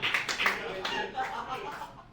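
An audience at a stand-up comedy set breaks into brief applause, a dense patter of clapping mixed with a few chuckles.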